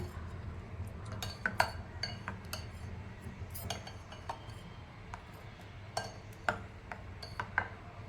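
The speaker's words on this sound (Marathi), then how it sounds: "आता हे चांगलं हलवून घ्यायचं" A spoon stirs semolina batter seasoned with chili flakes and cumin for papad, making soft, steady clinks and scrapes against a bowl, faint and close, with a low background hum.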